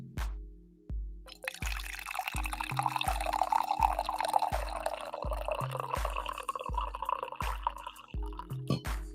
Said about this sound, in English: Got a full pot of coffee this morning, so hopefully we can get a good pour for you guys.